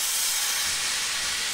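Steam train in the video game Shadow Man Remastered, a continuous bright hiss of escaping steam that holds steady and close throughout, with no other sounds.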